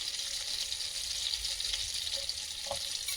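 Green chillies, ginger and garlic sizzle in melted butter in a pan, a steady soft frying hiss with faint stirring, moderately quiet and without talk.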